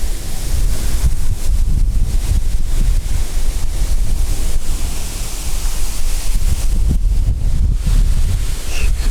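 Strong 28 m/s storm wind buffets the microphone in a constant loud roar while fishing, with gusty low rumbling throughout and no clear voices.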